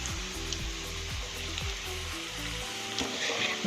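Maggi Manchurian balls deep-fry in hot oil with a steady, close hiss and crackle, a low mechanical hum running underneath.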